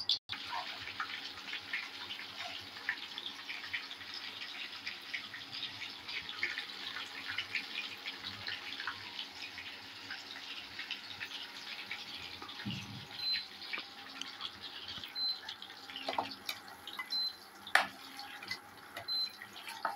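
Soybean pakora frying in hot oil, a steady bright sizzle and crackle running throughout at moderate level, with occasional louder pops and spits near the end.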